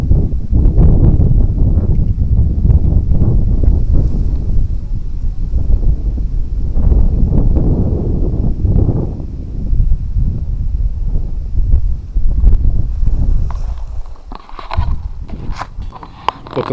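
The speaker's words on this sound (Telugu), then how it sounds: "ఆ గాలి సవ్వడి చూడండి" Wind gusting in Dzukou Valley, a loud rumbling buffet against the microphone that rises and falls continuously, with faint rustling underneath and no voices.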